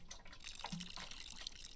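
Water is poured onto a plant in the video game Botany Manor, heard as soft, faint trickling and dripping with light splashes for under two seconds.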